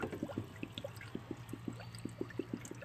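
Water pours into the coolant system of a 2003 Honda Pilot, with a soft steady trickle and repeated gurgling glugs at an even rhythm over a low hum.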